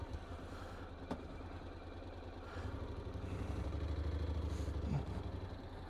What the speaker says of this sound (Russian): Так, заводим мопед.